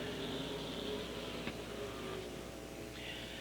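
Late model stock cars roar back to speed on the Holland oval in a 1999 feature race, a dense, steady, somewhat distant engine drone with a brief sharp transient partway through.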